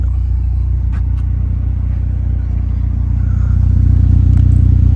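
A 2013 Honda Civic Si with newly installed catalytic converters runs with a steady, loud low rumble close by, its engine note swelling slightly toward the end.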